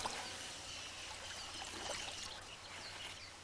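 Elephant calves bathing stir up a soft, continuous wash of splashing and trickling water, heard faint and somewhat distant with no voices.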